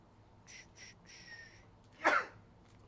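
A single short, sharp sneeze bursts out close by after a few faint, brief tones in a quiet room where trading card packs are being opened.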